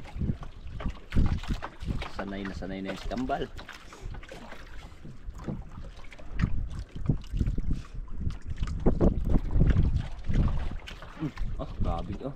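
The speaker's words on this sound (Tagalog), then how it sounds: "Hangin lang hangin." Wind at sea gusting around a small fishing boat, steady rushing noise buffeting the microphone throughout, with people talking over it and a sung or drawn-out voice early on.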